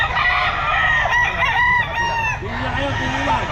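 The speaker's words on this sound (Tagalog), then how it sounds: "Manok ni Boss Jaymar mga sir." A rooster crows nearby at a pet market, a drawn-out call followed by clucking, over faint background voices and outdoor noise.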